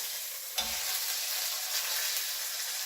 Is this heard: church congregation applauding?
no